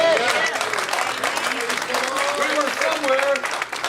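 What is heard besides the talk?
congregation clapping hands in church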